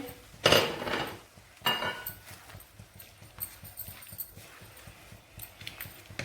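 A spoon stirs vegetables into creamy white sauce pasta in a pan: two louder scraping sweeps open, then lighter metallic clinks and scrapes continue in an uneven rhythm, close by and without speech.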